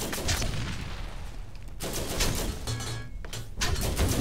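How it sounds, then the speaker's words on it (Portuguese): Rapid bursts of gunfire and heavy cannon blasts from a large gun in the video game Borderlands, loud and repeated in quick volleys with short gaps between them. "vamos pegar esse canhãozão aqui"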